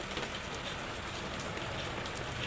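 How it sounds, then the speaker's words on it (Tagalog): Heavy storm rain pours down steadily on surfaces, a dense, constant hiss with close drops patting throughout and no pauses. "Lakas ng ulan."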